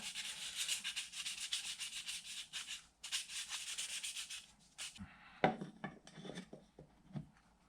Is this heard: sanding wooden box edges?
yes